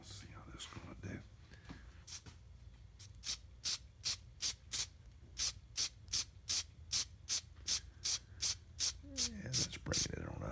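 Red color dusted from a spray can onto a two-part wooden hollow form in light coats, heard as about fifteen short, evenly spaced hissing bursts that build to a steady rhythm, close and clear over a quiet room hum.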